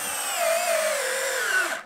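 A Metabo drill driver sinks a 3-inch screw into wood, its motor whine steady and close, then dropping in pitch as the load builds before stopping abruptly.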